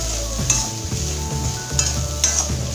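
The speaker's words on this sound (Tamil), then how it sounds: "தேவையான அளவு உப்பு சேர்த்துட்டு நல்லா வறுத்து விட்டுடலாம்" Grated coconut frying with salt in a pan, a close, steady sizzle with a few sharp scrapes and taps from a stirring spoon, brief and uninterrupted by speech.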